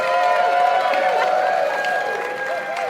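An audience at The Retail Rumble, a live stage event, breaks into applause and cheering, a dense crowd wash with shouts rising above it for three seconds, loud and close, with voices mixed in.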